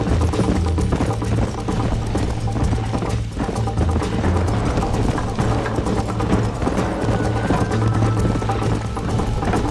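Hooves pound in a fast galloping rhythm in the Red Dead Redemption video game, close and continuous for about ten seconds over a dense rumble of game sound effects.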